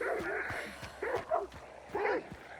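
Dogs bark and yip in a video game, several quick bursts coming in clusters at moderate loudness over steady game ambience.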